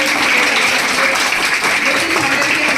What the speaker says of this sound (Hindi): अब बंटी जी का स्वागत हो रहा है, एक बार जोरदार तालियां।